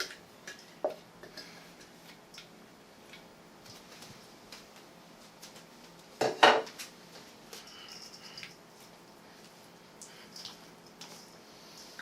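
Garlic butter being dumped into a bowl and worked together, with soft scattered scrapes and taps of a utensil, one sharp clattering knock near the middle, otherwise quiet and close with no talk.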